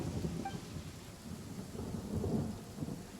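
Steady rain pours with a low rolling rumble of thunder in a Genshin Impact game scene, a continuous wash with no voices.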